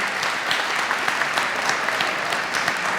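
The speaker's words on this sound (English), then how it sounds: "give your classmate a round of applause" Steady clapping from a group at a university convocation, a dense even patter of applause at moderate loudness with no voices over it.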